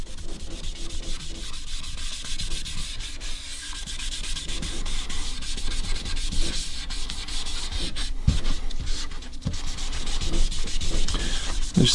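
Wood on a custom hollow body guitar is sanded by hand in steady back-and-forth rubbing strokes, a close, dry scratching with no voices.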